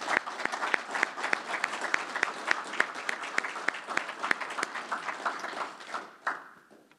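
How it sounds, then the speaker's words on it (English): An audience at a firefighter badge pinning for a joint Oshkosh and Neenah-Menasha recruit class gives sustained applause, a fairly soft, even patter of many hands that tapers off at the end. "I think it'd be very appropriate for us to give all of you a round of applause for what you did to make this happen"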